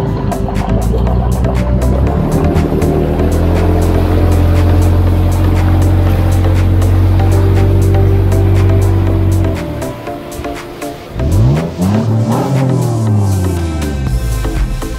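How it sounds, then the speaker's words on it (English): An off-road truck powers through a deep water crossing in Osceola National Forest, its engine roaring loud and steady, then easing off into a wavering, bubbling exhaust note as the revs rise and fall again. "so I decided to power through it as I heard my exhaust just bubbling out"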